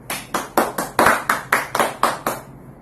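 Around nine evenly spaced hand claps ring out in a quick, loud run, a short burst of applause welcoming a contestant on a spoof quiz show.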